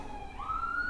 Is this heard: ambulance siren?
yes